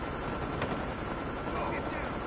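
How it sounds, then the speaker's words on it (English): In the Call of Duty video game, a friendly stealth helicopter arrives as a dense, continuous rotor roar that fills the scene, mixed with other game sounds. "Friendly stealth chopper inbound."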